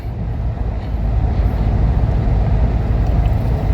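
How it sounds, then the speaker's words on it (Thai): A turbocharged pickup truck engine answers a light touch of the accelerator with a low, close rumble that swells slightly after a second and then holds as a steady drone. "ปกติถ้าผมแตะคันเร่งแบบนี้นะ"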